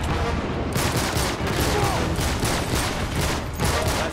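Rapid gunfire from the video game Uncharted 3, with dense bursts of shots and impacts repeating close and loud throughout.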